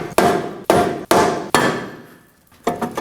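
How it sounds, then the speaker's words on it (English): A rubber mallet strikes a Nissan Armada rear brake rotor four times in quick succession, each blow a sharp, close thud with a short ringing tail, then a pause before another hit. "Using a rubber mallet, I'm gonna go ahead and hit around this area to get it off."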